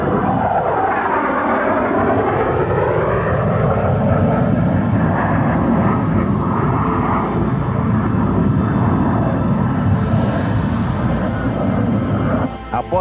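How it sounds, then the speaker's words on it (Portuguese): A Mirage jet fighter of the Brazilian Air Force roars loudly overhead, its engine noise rising and sweeping past with a shifting pitch, steady and intense throughout before a sudden drop at the end. "Senna está ocupando o assento traseiro do Mirage"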